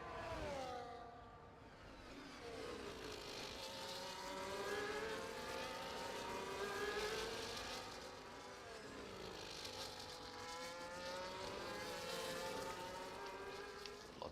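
Race cars in F1 24 at the Baku street circuit, high engine whines sweeping up and down through gear changes as cars pass, heard fairly quietly and continuously throughout.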